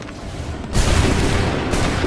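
A musket volley in the Assassin's Creed 3 video game, a dense booming roar of many guns that swells suddenly and holds as a loud, rumbling wash of overlapping shots.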